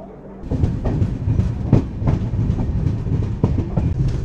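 The Mandovi Express rolls out of Mangaon on the Konkan line, its wheels beating a loud, steady clickety-clack over rail joints with a deep rumble, heard from on board.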